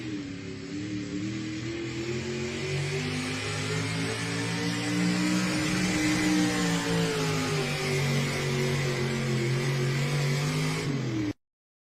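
A pulling truck's engine roars continuously at a truck pull in Fisher, Illinois, loud and sustained with rising and falling revs, then cuts off abruptly at the end.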